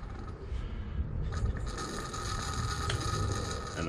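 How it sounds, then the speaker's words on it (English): Air is sucked in with rough, gurgling hisses as brake fluid is bled from a 2003 Honda VFR800's linked brake system using a pump tool, a faint, close, continuous sputtering noise with a few sharper clicks; no talking. "we can hear air being sucked in now."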